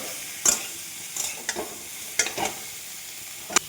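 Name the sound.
green banana frying with green chilli and tomato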